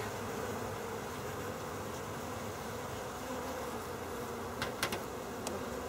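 Dense, continuous buzzing of many honeybees close by at a hive during an inspection, a steady droning swarm with a few brief clicks near the end.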